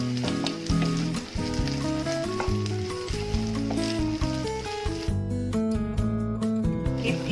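Sabudana sizzling and frying in hot oil and ghee with jeera, green chilies and curry leaves, a steady crackle that sits under loud, continuous music.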